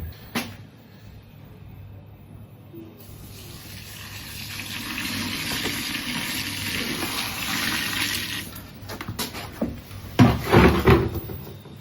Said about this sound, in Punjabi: ਇਹਦੇ ਵਿੱਚ ਪਾਣੀ ਅਸੀਂ ਹੋਰ ਪਾਵਾਂਗੇ